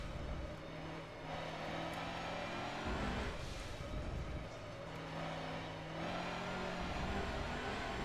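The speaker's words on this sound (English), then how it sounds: "Oh, bouncing off the rev limiter there." A racing car's engine in Forza Motorsport 7 with short gearing, bouncing off the rev limiter in a sustained, buzzing high-rpm drone with stuttering cuts, heard fairly quietly.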